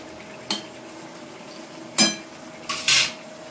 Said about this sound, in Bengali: এবার একে একে ঝোলের মধ্যে দিয়ে দিচ্ছি ঢেঁড়সগুলো।